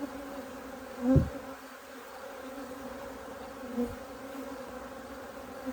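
Honey bees buzzing steadily around a beehive during queen rearing, a continuous close hum with a couple of individual bees passing near.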